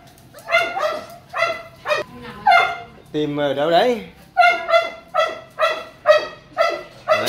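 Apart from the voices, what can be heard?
Phu Quoc dogs barking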